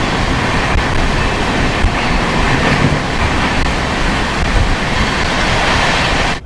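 Howrah Kalka Netaji Express train running with a loud, steady broadband rumble and rattle of wheels on rail, continuous throughout and cutting off abruptly at the very end, with no talking.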